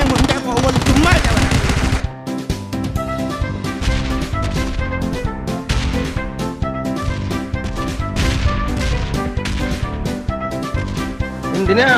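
Gunfire in the PUBG video game: loud, rapid bursts of shots repeat across the whole stretch, densely layered over a continuous musical backdrop.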